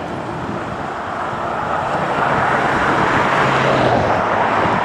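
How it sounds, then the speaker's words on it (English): A steady, loud jet engine roar from airplanes taking off and landing at Los Angeles International Airport swells gradually over a background of traffic hum, with no voices. "there are more airplanes taking off and landing"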